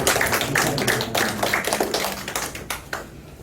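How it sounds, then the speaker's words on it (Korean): A church congregation at a Sunday worship service claps in welcome, a short burst of uneven, fairly close hand claps that fades out after a few seconds. "다시 한번 박수로 환영하겠습니다"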